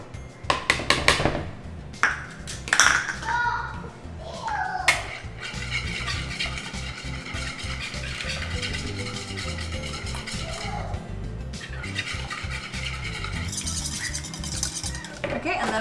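Cake batter and oil are mixed in a bowl, with utensil clinks and scraping against the bowl, sharper knocks early on, then a steady stirring rhythm, while a voice talks at times.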